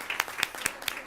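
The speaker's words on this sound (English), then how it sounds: "we can clap now" A few scattered, sharp claps at a school district board meeting, spaced roughly every quarter second, like a small group clapping for students called up front.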